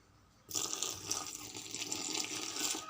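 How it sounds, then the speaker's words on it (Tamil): Water starts abruptly and streams steadily, a close splashing rush of liquid pouring without a break, as half a cup of water goes into batter for banana fritters. "அரை கப்பு தண்ணி ஊற்றணும்"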